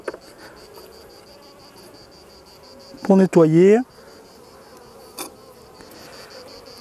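Honeybees buzz around an opened beehive during an August hive visit. It is a faint, steady insect hum in the background, with someone speaking French briefly over it and a few small knocks.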